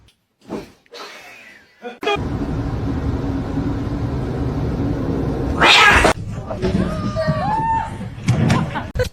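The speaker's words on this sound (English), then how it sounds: "And now the cat." A cat meows and caterwauls in a few short, loud calls near the microphone, with a door slam or thump and some indoor noise around them.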